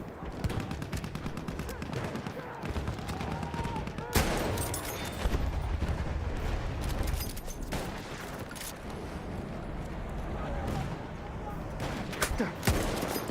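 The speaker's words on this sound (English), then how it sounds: "Oh no, I shot the horse." Rapid gunfire in the video game Battlefield 1, with dense bursts of shots and sharp louder blasts at intervals, going on continuously under a fairly loud mix.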